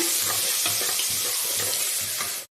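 Steady, continuous sizzling of onions frying in a hot pan, with faint scraping stirs now and then, close and loud, no voices.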